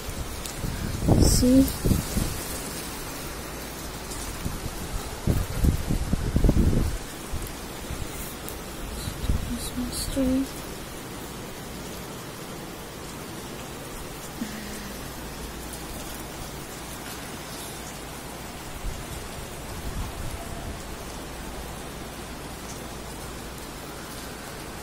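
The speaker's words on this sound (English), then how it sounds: "It's 2 o'clock in the morning and it's raining, guys." Rain falls at night around two in the morning, a soft, steady hiss that runs throughout, with a person talking and moving nearby early on before the rain continues alone.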